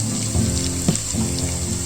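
Raw potato pieces tumble into a hot frying pan with ginger masala for a chana dal and potato curry, giving a brief clatter and rising sizzle over a steady hiss of frying, with no talk.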